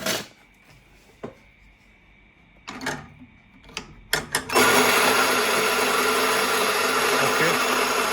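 An S70 espresso grinder with 64 mm titanium burrs starts grinding coffee beans. A few clicks and bumps come first, then a loud, steady, whirring grind sets in close by and continues without a break.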